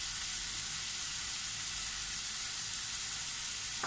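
Pork belly fries in a pan with soy sauce and oyster sauce, giving a steady, close sizzle with a broad hiss throughout and no talking.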